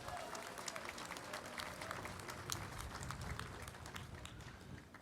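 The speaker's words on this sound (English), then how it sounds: "Would you give them a round of applause?" An audience at a streetcar ribbon-cutting ceremony in Oklahoma City applauds steadily for several seconds, a dense patter of many hands heard from a distance at low volume.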